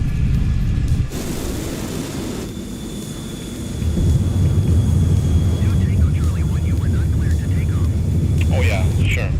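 An F-14 Tomcat jet in Microsoft Flight Simulator rolls down the runway on its takeoff run at Budapest, Hungary, a broad roaring engine rush that swells louder partway through and holds steady as the aircraft lifts off.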